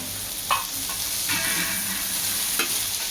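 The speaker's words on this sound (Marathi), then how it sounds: "2 मिनिटं परतलेली भेंडी आहे ती आपण ह्याच्यात घालून घेणार आहोत" Okra is stirred into a pan of frying onion, garlic, chili and turmeric, giving a soft steady sizzle with a few scraping strokes of the spoon.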